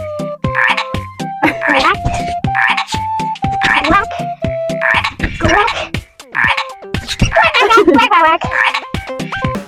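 A person imitates a frog croaking outdoors in a park, making a rapid run of loud, repeated vocal croaks and warbles, with laughter and lively voices mixed in throughout.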